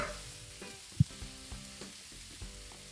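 Yakisoba noodles with cabbage and meat sizzle steadily in a pan as they are stir-fried and tossed, close up, with soft scraping and one sharp clack from the utensil, and no voices.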